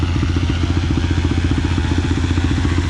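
A Suzuki LTR450 ATV engine runs steadily on an airfield runway before a race against a Cessna airplane. It gives a loud, close, continuous throb with a fast, even pulse throughout.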